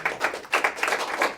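A small audience applauds after a mindreading card trick, giving a short burst of overlapping claps at moderate loudness with no voices over them.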